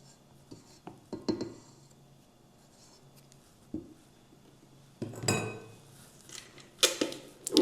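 A utensil scrapes and knocks around a bowl of dough in bursts, with clinks and rubbing sounds of mixing, close up and fairly quiet between strokes.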